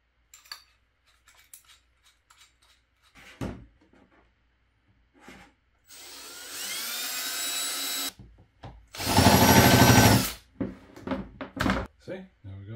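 Two bursts of a power drill whining at high speed while drilling a plastic enclosure, the second louder, between scattered clicks, handling noises and brief bits of talk.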